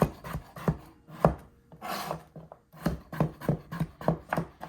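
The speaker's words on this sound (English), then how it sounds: "I'm just gonna cut my sausages up into little pieces for this quiche." Sausages are cut into small pieces for mini quiches, making a run of crisp, rhythmic knife chops on a board. A brief rubbing, scraping sweep interrupts them midway before the quick chopping resumes, close up with no talking.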